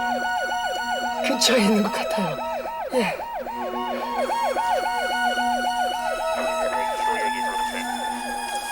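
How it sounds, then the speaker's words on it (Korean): An ambulance siren during an emergency rescue search in a valley, wailing loudly in fast rising-and-falling cycles that continue without a break, while a person speaks briefly over it. "사이렌 소리가 가까이 들려요"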